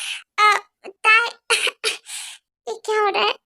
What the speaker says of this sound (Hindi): इतना जरा खांस रहे हो तो पानी क्यों नहीं पी लेते हो?